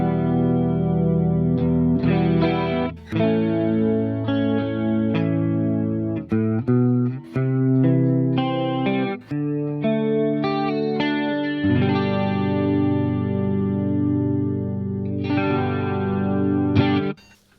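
An electric guitar through a Two-notes Reload 2 loadbox with Dimension C stereo chorus plays chords and single notes with a lush, wide chorus effect that swirls and shimmers side to side, ringing out loud and alone.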